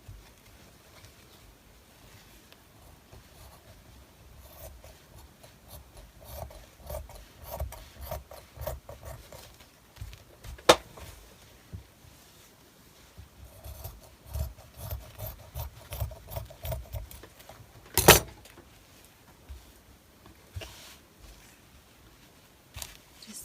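Scissors cutting fabric scraps for an eyeglasses case: soft rasping snips come in clustered bursts and pauses, close and quiet, with a couple of sharper clicks.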